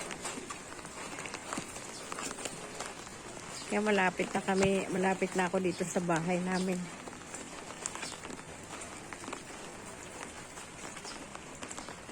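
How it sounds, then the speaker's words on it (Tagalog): A gusty wind and rain storm hisses steadily outdoors near a house, with someone speaking over it throughout and a brief stretch of louder, tonal sound in the middle. "Pasumpong-sumpong ang lakas ng hangin at ulan."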